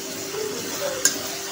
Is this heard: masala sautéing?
yes